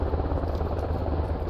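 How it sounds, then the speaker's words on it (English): A helicopter in the video game Squad drones with a steady, low, rumbling rotor throb that stays fairly close and constant. "Guys, there's a chopper."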